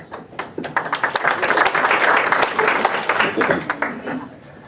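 An audience at a debate claps in a steady, dense burst that swells and then tapers off over several seconds, the sharp hand strikes blending into a rolling wash of applause.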